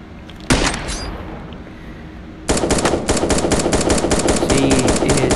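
Rapid bursts of gunfire from sniper, shotgun and AK weapons in an off-brand Fortnite-style video game: one early shot, then a quick, sustained string of loud, closely spaced shots rattling through the rest of the clip.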